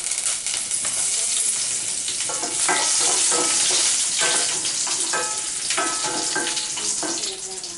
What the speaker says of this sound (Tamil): தாளிச்சி